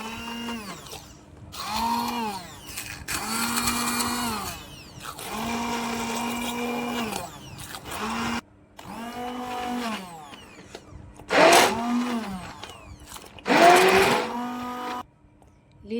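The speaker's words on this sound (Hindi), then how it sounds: "इसको मैं हैंड ब्लेंडर से बहुत ही अच्छे तरीके से ब्लेंड करती हूँ" A hand blender whirs through steamed spinach in repeated bursts, each spin-up rising in pitch and dropping back, separated by short pauses, with two sharper, louder pulses toward the end.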